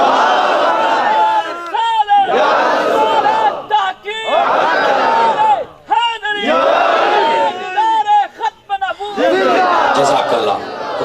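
A large crowd at a religious gathering shouts a chanted slogan in reply to a leader's call, with loud massed voices rising in repeated surges separated by brief pauses.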